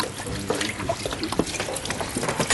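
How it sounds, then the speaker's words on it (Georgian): Khachapuri dough for layered khachapuri being kneaded by hand with water, giving close, continuous wet squishing and trickling sounds, with a faint voice in the background. "აქ პირდაპირ წყლით ვზელთ"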